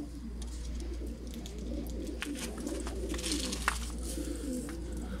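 Pigeons, a gifted pair among others, coo in low, throaty rolling phrases against a steady low hum and faint background noise, moderately near and quiet, with no speech.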